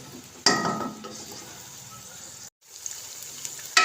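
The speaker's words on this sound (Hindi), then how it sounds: "इसको हम आलूओं को फ्राई करेंगे प्याज और लहसुन के साथ।" Potatoes frying in a pan with onion, garlic and whole cumin seeds, a steady close sizzle with scraping stirs at intervals and a brief drop-out midway.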